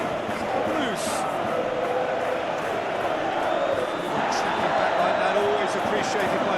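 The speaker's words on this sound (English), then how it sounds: "Appreciated by the crowd." A crowd in a football video game simulation of Sporting vs Arsenal roars and murmurs in a steady, loud wash, under commentary.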